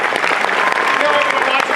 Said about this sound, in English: how about an applause for Hal Rudnick?